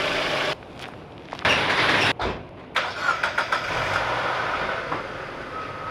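A Mazda Miata on new wheels and coilovers starts up and pulls away, with a cranking catch, a few short revving bursts, then a steady mid-pitched engine hum as it drives off.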